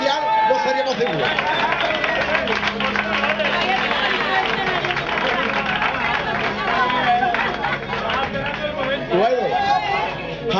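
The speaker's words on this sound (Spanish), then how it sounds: "Un fuerte aplauso" Sustained applause from a crowd at an athletics club's December get-together runs throughout at steady strength, mixed with lively chatter and voices.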